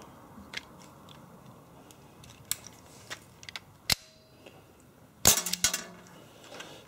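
A Zombie Army gas revolver BB pistol fires a plastic shell, giving one sharp close crack, followed by a second burst of sharp clicks and snaps, with faint handling ticks between them and no talk.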